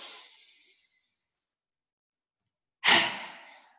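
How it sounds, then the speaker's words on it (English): Deep breathing during a children's yoga routine: a breathy exhale fades out, a second of silence follows, then a sharp, loud breath cuts in and trails off, close to the listener. "Big breath in, shoulders up. And let them go."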